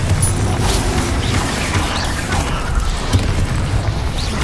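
Confringo fire spell blasts in Hogwarts Legacy combat on hard mode, a continuous rumbling booming barrage of low explosive bursts with no clear gaps, loud and dense throughout.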